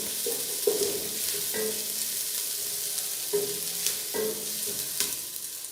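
Onions browning in plenty of hot oil for a paye recipe: a constant close sizzle broken by several stirring scrapes, with no voices.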